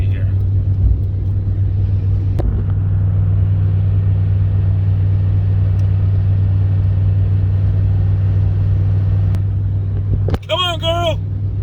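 A car engine drones steadily from inside the cabin while driving on the road, a constant low hum throughout, with a voice talking over it.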